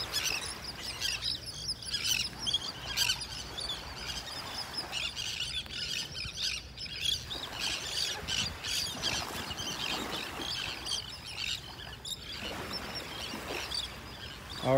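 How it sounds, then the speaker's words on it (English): Seagulls call and squawk along a beach in North Naples, Florida, with repeated chirping cries spread across the whole stretch under steady surf and wind noise. "Look at all these seagulls."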